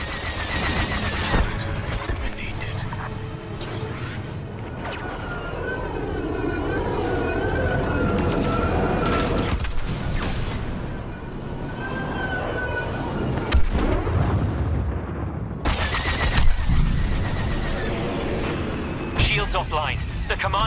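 Blaster fire and explosions pound a capital ship's front deflector during a space battle in Star Wars Battlefront II, a dense continuous barrage of shots and booms with game voices speaking over it.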